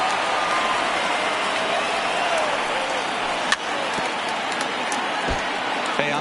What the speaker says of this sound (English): that nearly sent us home and sent this crowd into hysterics